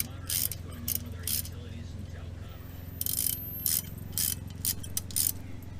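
Rapid ratchet clicking in short bursts while a bolt on a Chevy Impala wheel hub is snugged up, close and fairly crisp over a low background hum, with speech nearby.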